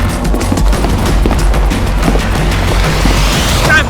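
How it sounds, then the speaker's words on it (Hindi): Gunfire in a Hollywood action movie dubbed in Hindi, a dense burst of rapid shots and booms crackling continuously at close range and high volume. "अरे गोली चली, भागो।"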